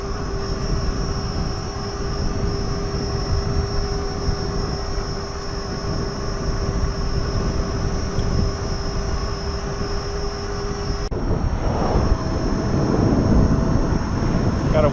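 Steady, loud wind roar buffets the microphone while riding a Gotway Monster electric unicycle at speed with a crosswind, with a faint whine underneath and a shift in the rushing noise near the end.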